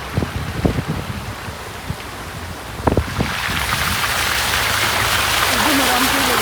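Heavy rain and floodwater, with a petrol pump standing in water and a speedboat nearby. Broadband hiss builds into a steady loud wash. Splashes and knocks come early, and a faint engine-like drone appears later.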